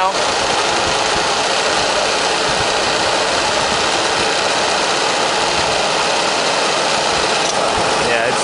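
A car's AC compressor runs alongside the idling engine in a backyard repair, giving a steady, close mechanical whir with a continuous rattling hum throughout.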